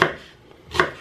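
Two crisp knife chops cut through an onion on a cutting board, close and distinct, with a brief quiet gap between them.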